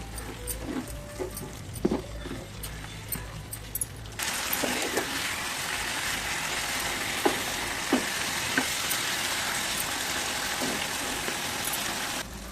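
Tomato masala with turmeric and chili sizzling in a pan, a quieter stirred fry with a few clinks that suddenly swells into a loud, steady hiss for the rest of the stretch.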